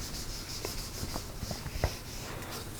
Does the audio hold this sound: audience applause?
no